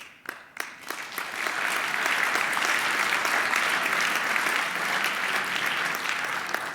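Audience applause at a hacker congress talk, beginning with a few scattered claps and swelling into dense, sustained clapping from a large crowd that carries on steadily to the end.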